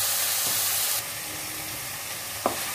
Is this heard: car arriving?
no